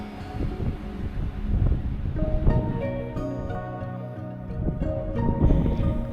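Strong wind gusts roar and buffet outdoors on a warm, very windy hunting morning, a loud, continuous rushing that swells and eases, heard alone without voices.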